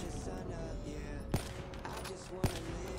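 Black Ops 3 gunfire in Gun Game mode: a steady mix of distant rapid shots with two sharper, louder reports standing out about a second apart, under a busy game soundscape.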